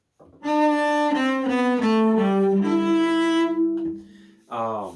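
Cello plays Suzuki Minuet No. 1 from Book 2 as a slow, clear melody of sustained bowed notes, each changing step by step, close and alone, ending with a brief pause and one final note.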